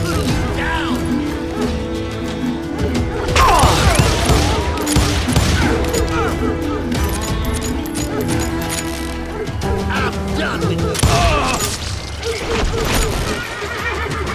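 Sustained gunfire fills a battle in the Wild West shooter Call of Juarez: Gunslinger, as dense volleys of shots crackle over horse whinnies, crashes and shouting voices throughout, loud and busy with no letup.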